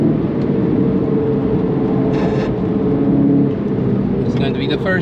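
Car lapping the Nürburgring, its engine a steady loud in-cabin drone throughout, with a brief high whine midway and light rattles near the end.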